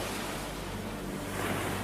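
Rough sea waves surge along the Palghar coast in Maharashtra after heavy monsoon rain, a continuous broadband roar of surf mixed with wind buffeting the microphone.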